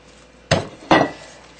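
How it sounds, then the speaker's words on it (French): Chapati dough being mixed in a bowl gives two sharp knocking clatters about half a second apart, close and fairly loud against a quiet background, with no talking. "On mixe bien, on mélange bien pendant quelques minutes."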